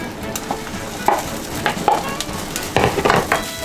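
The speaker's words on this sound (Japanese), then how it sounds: "よし、じゃあご飯も焼きます" Rice sizzles and fries in a pan over an egg for cup noodle fried rice, with a steady crackle broken by scraping stirs and occasional utensil clinks.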